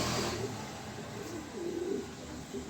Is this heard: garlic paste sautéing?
no